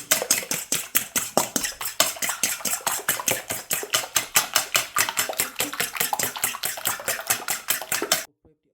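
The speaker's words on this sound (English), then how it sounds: "after breaking the eggs, I'm going to whisk until it becomes foamy" Eggs whisked by hand in a bowl for a homemade fruit cake batter, a fast steady run of close, bright clinks and sloshing strokes that continue without pause until stopping abruptly near the end.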